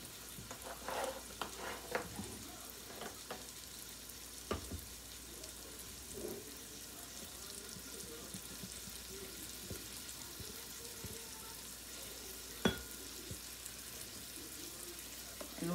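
Food fries steadily in a pan on a high flame for a home-cooked dinner, a broad constant sizzle with occasional stirring clatters and a sharp utensil knock, heard close.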